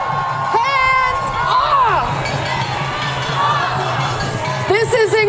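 Rally crowd at a Hands Off protest in Albuquerque on a cold afternoon, loudly cheering, whooping and chanting in waves, close and steady throughout.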